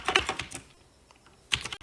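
Quick bursts of keystrokes on a computer keyboard, a cluster of close taps at the start, a short pause, then another brief flurry, near and fairly quiet with no voice.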